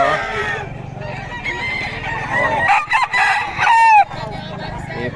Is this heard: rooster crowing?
yes